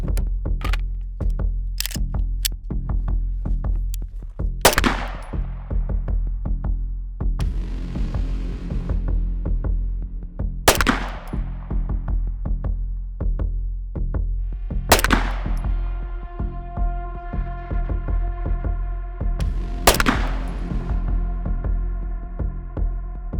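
Stealth Arms Platypus 1911 pistol firing Winchester 115 grain range ammunition at an outdoor range: five sharp, loud shots spaced several seconds apart, each ringing out briefly over a steady low rumble.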